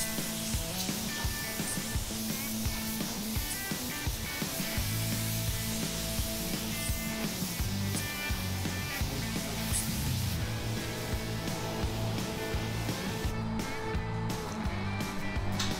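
A spray gun lays base coat onto a car in a shop, giving a steady close hiss overlaid with intermittent clatter and tapping.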